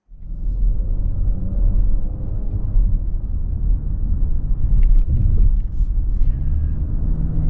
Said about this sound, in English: we're out on the road in this 2026 QX60 Sport